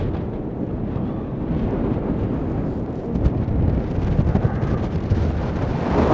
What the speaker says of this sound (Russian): Видно, вот по воде с какой силой дует ветер, просто нереально.